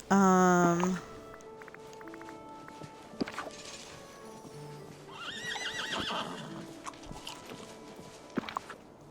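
A horse in the video game Dreamlight Valley gives a loud, clear whinny at the start, followed by clip-clop hooves and scattered game sound effects, with a person talking over the later part.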